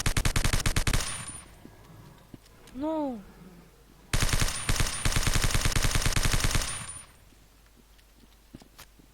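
Rapid bursts of PPSh submachine gun fire from a zombie video game, two long sustained volleys separated by a short rising tonal effect, with a brief voice near the end.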